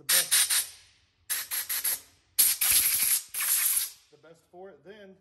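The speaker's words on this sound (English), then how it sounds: "So I hit it with a little of this, some compressed air." Compressed air blasting through a cleaned carburetor in bursts: three loud hissing blasts of about a second each, separated by short pauses, followed by faint rattling taps at the end.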